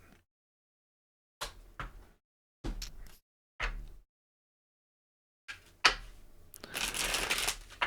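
Tarot cards are shuffled in several short riffling bursts separated by pauses, ending in a longer, louder run of crisp shuffling, close and with no talk.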